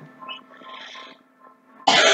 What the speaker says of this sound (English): that's 3 coughs in 2 minutes